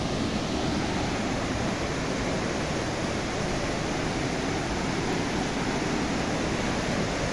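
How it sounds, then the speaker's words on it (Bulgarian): Konevski waterfall on a full, high-running river pours in a steady, loud broadband roar of rushing water that holds unbroken and close throughout, with no voices. "Коневския водопад."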